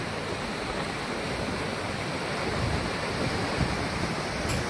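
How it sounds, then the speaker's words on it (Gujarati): Loud, steady rush of floodwater from a breached canal roaring continuously, a broad wash of turbulent flow close by with no voices. "પુષ્કળ પાણી વહી રહ્યું છે જુઓ"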